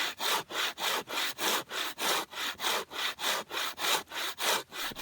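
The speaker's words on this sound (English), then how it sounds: "I cut out a 5-foot section from the spruce tree" Hand saw cutting through a section of dead spruce log outdoors, a steady run of about thirteen even push-pull strokes, close and loud with a bright rasp on each pass and no voices.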